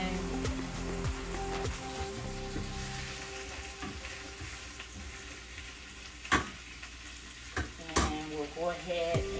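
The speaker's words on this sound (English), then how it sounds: "give them a little toss in the olive oil that the oxtails have been browning in" Chopped vegetables sizzle in olive oil left from browning oxtails for a Jamaican-style dish, a steady close frying crackle with scraping stirs and a few sharp clanks of a utensil against the pan.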